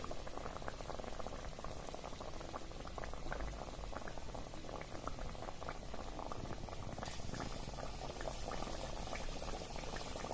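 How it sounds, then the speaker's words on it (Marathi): Batter-coated potato slices for crisp bhaji deep frying in hot oil, a steady, dense bubbling crackle that runs loud and unbroken throughout with no voices. "तेल चांगलं तापलेलं होतं त्यामुळे आपली जी भजी शिजण्याची किंवा तळण्याची जी प्रोसेस आहे ती लगेच चालू झाली आहे"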